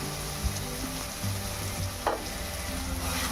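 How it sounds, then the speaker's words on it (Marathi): Onion, tomato and green chili with salt and turmeric cooking in a pan over medium heat, a soft continuous sizzle with a few sharp spoon scrapes and taps as it is stirred, close and without talk. "आता आपण हे सर्व मीठ आणि हळद असं एकजीव करून घेऊ."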